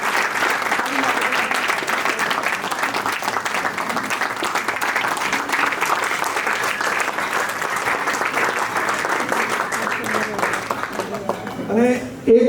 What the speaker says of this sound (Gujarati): બધા જ ઊભા રહીને એક સાથે જોરદાર તાળી